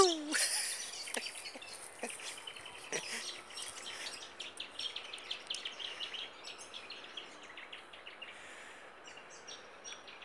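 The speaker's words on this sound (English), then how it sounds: "all the finches in the trees" Many small finches chirp and twitter in a busy chorus in trees, some calls close and bright, others more distant, with faint rustling underneath.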